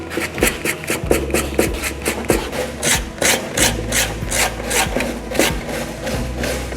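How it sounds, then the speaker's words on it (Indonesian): A flower pot made from old fabric is sanded smooth to strip off dirt and leftover paint. Close, steady rhythmic scraping strokes repeat throughout, with no talking. "kita akan haluskan dulu terlebih dahulu supaya sisa-sisa kotoran atau sisa-sisa cat bisa dihilangkan"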